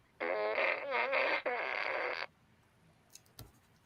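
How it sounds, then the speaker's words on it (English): A toy fart gun lets out a long, loud, wavering electronic fart sound in two bursts, then falls quiet apart from a couple of faint clicks. "I think I meant to say fart gun. It's a fart gun."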